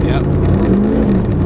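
A 1000 hp turbocharged Trans Am WS6 idling loudly with its exhaust cutout open and the muffler bypassed, a deep rumbling close by with a slight rise in revs, as a voice briefly speaks over it.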